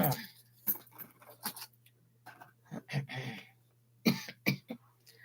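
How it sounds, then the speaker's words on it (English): Someone coughs and clears their throat several times in short, close bursts, scattered across a quiet indoor room with a steady low hum beneath. "I have been coughing like a little bit yesterday and today"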